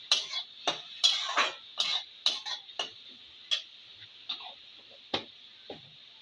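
Beef liver bhuna being stirred in a pan, with ginger and garlic paste added, gives about fifteen sharp, irregular clinks and scrapes of a spoon against the metal, close up and with no talk.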